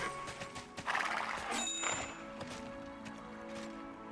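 A horse in the video game Tera whinnies loudly, with clip-clopping hooves and game effects around it, the neigh rising sharply then trailing off as the hoofbeats continue.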